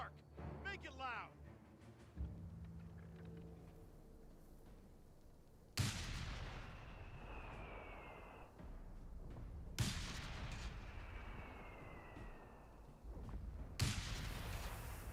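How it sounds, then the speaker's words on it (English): A high-explosive artillery barrage in a war video game, three heavy booming blasts spaced several seconds apart, each followed by a long rumbling roll and whistling debris, preceded by quieter game sounds. "HE barrage on my mark. Make it loud."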